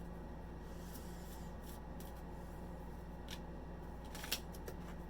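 Small deck of cards being shuffled in the hand, heard as faint, soft papery riffles and brushes with a sharper flick near the end, close and quiet.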